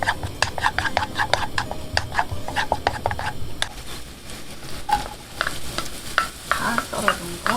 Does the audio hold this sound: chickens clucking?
no